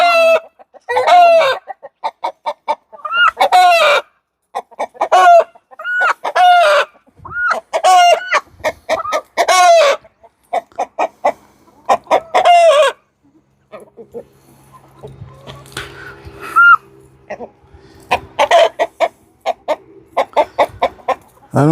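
Rooster and hens in a farmyard in Mexico, repeated loud nearby clucking and crowing in bursts, with a person's voice speaking intermittently over and between the bird calls.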